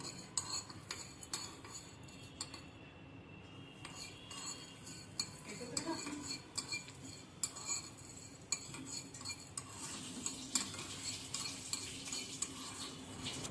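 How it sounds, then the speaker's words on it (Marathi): Coriander seeds, cumin and black pepper dry-roasting in a pan for Konkani masala amba, with repeated light clinks and scrapes of a spoon stirring the spices over a faint sizzle throughout. "इथे आपण हा थोडासा मसाला भाजून घेऊया, धना, जिरा आणि काली मिरीचा"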